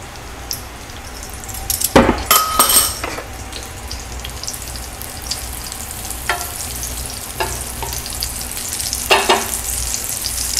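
Unsalted butter and olive oil sizzle steadily in a hot pan, a close, continuous crackle with a few sharper spitting bursts and light scraping clatter early on, no talking.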